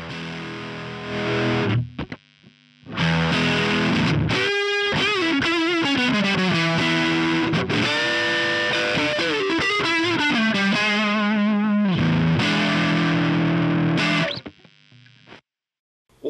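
An electric guitar played through a BOSS BD-2 Blues Driver overdrive pedal with the gain at maximum, loud and heavily distorted, strummed chords and sustained bent notes ringing in bursts with short pauses between phrases, no talking.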